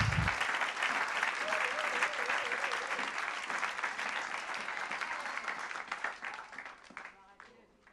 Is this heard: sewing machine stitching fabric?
no